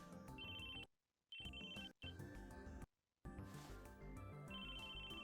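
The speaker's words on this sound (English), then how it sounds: "His phone went off in his pocket." A mobile phone ringtone in a video game goes off in a character's pocket, a bright repeating melodic ring over a dense music score, with short silent breaks between bursts.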